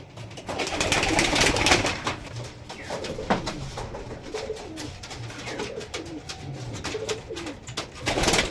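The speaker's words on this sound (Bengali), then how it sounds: "Golden Payra, Pakistani golden high flyer." Pakistani golden high flyer pigeons coo in low, throaty rolling calls, several birds nearby overlapping in a continuous murmur with some rustling.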